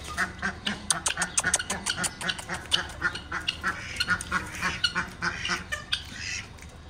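Domestic ducks kept together with chickens quack repeatedly in a rapid, overlapping chorus of harsh nasal calls, close by and continuous.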